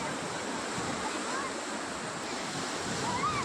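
Steady, continuous roar of sea surf rolling onto RK Beach in Visakhapatnam, heard close and fairly loud, with a faint voice in the background.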